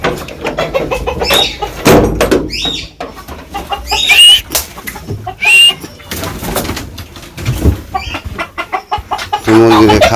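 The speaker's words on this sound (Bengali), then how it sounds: "মুরগিকে খাবার দিনি" Chickens on a village farm cluck and squawk loudly and close by as they are fed, with irregular bursts of calls and some cooing-like chatter. A few quieter background sounds run beneath.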